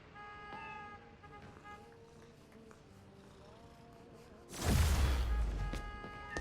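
A cat meows in Marvel's Spider-Man: Miles Morales, several short tonal meows over a quiet city game background, followed by a sudden loud whooshing burst near the end.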